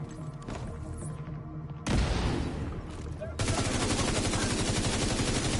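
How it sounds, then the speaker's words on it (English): A grenade is thrown and explodes in The Division 2 on a District Union Arena mission, a sudden loud burst cutting into steady gunfire, followed by dense, continuous rapid shooting close by, with no talk. "let's throw a grenade"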